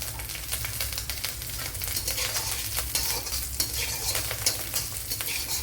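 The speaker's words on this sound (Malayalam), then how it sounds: "പിന്നെ ശകല കറി ലീവ്സ് ഇട്ട് കൊടുക്കുക." Curry leaves hit hot oil in a pan for Kerala-style idli uppumavu, setting off a loud, continuous crackling sizzle with scraping stirring throughout and no speech.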